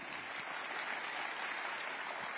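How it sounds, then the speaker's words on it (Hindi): Loud audience applause at the Rising Bharat Summit 2025 interview event, a dense, steady wash of clapping that holds evenly from start to finish. "जोरदार तालियों की गड़गड़ाहट"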